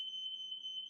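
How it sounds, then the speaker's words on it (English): Several smoke alarms sound together inside a house, a steady high electronic tone held unbroken and loud, with faint low background rumble beneath and no talking. "there is just a smoke alarm going off in my house. Several of them now."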